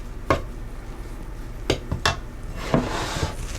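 Ingredients worked into flour in a bowl for whole wheat bread: a few distinct clanks of a utensil against the bowl over a soft continuous scraping, close and fairly loud.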